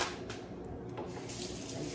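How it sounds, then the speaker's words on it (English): Water poured from a container into tallow being rendered, a steady near splash and trickle running without pause for a couple of seconds, no voices. "we add about 4 cups of water in there with it"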